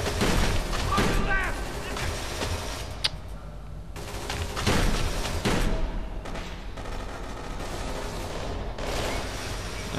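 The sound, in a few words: gunshots in Kane and Lynch 2: Dog Days video game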